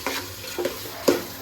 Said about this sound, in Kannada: ಸೊ ಇಲ್ಲಿ ಫ್ರೈ ಆಗ್ತಿದೆ. ಆನಿಯನು ಆಲ್ಮೋಸ್ಟ್ ಫ್ರೈ ಆಗಿದೆ.